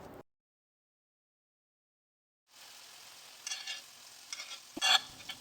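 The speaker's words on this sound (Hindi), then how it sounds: "अब इसको मैं स्ट्रेनर के साथ इस ऑयल में से निकाल कर इस मसाले में डाल दूँगी, और फिर इसको इस मसाले के साथ फ्राई करूँगी कुछ देर के लिए" Fried taro (arvi) is tossed into masala in a pan. After a stretch of near silence, a soft crackling fry starts up, with a few louder stirring scrapes toward the end and no talking.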